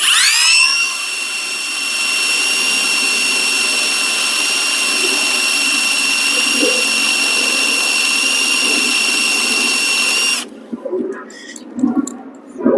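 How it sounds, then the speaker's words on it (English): A FLEX 24V brushless cordless rotary hammer, set to drill only, bores a hole into brick with a loud, steady high whine that runs for about ten seconds, then cuts off, leaving quiet background noise. "let me show you how easy it is for the flex drill to drill a hole in this brick"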